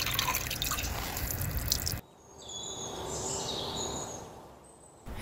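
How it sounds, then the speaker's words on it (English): Warm water drips and trickles while toy animals are washed, producing close, wet splashes followed by quieter, scattered drips and faint high chirps. "Warm water."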